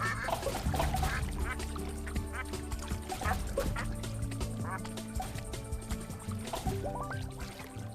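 Cartoonish duck quacks from the video game Super Rub a Dub ring out repeatedly over steady, busy game music and effects, loud and close throughout.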